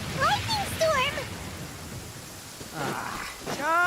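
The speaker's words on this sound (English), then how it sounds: "Uh-oh! Lightning storm!" A video-game thunderstorm: a constant hiss of rain with low rumbling thunder runs throughout, while voices talk over the storm.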